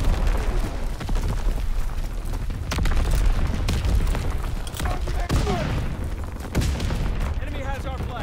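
Incoming enemy artillery fire in the World War II shooter Call of Duty: WWII: a dense, continuous barrage of booming blasts and rattling gunfire, loud and sustained, with game voices calling out over the din.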